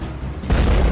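Sudden low, heavy boom from a truck bomb exploding on the Kerch Bridge in Crimea, a loud rumbling blast that swells abruptly and sustains without voices.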